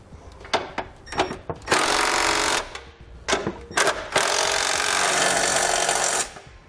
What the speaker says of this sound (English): we can go ahead and snug them all down